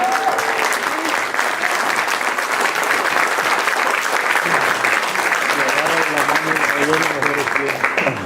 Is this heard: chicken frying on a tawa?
no